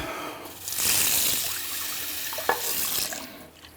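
Running water pours and splashes steadily through rice in a colander, swelling and fading, with a sharp clink partway through, close by and fairly quiet.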